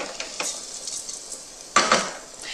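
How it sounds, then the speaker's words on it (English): Arborio rice toasts in oil in a pan with a soft sizzle, punctuated by light utensil clinks and a sharper scrape of stirring near the end. "What I'm trying to do here is I'm trying to get my grains of rice perfectly coated in the oil and then also quite toasted"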